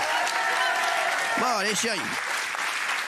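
A television studio audience keeps up steady, fairly distant applause for guest Lorenzo Lamas, with someone speaking over the clapping partway through.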